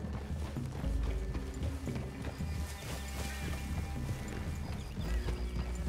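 Horses' hooves clip-clop steadily in Red Dead Redemption II with an occasional whinny, set in a woodland clearing under game music and ambient layers, moderately loud throughout.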